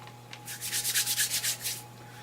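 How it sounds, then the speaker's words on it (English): A stick of chalk run back and forth along sandpaper and ground into powder, about ten quick rasping strokes in a close, steady rhythm over a faint mains hum, with no speech. "Basically I just run it along the sandpaper, and it of course grinds off the chalk into a nice powder."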